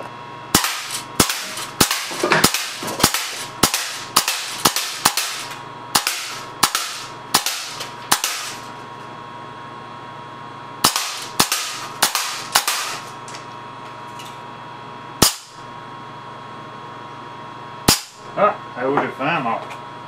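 A pneumatic .25 BB air cannon with a breech mod fires a long series of sharp, loud cracks, first in quick regular succession, then in a few scattered shots after a pause.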